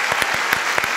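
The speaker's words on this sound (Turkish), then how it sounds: "Alkışlarla başladı programımız." Studio audience applause at the opening of a Turkish folk-music TV show, dense clapping heard close and loud with a few sharper claps standing out.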